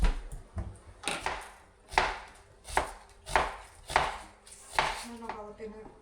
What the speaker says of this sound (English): I'm going to start chopping the onions.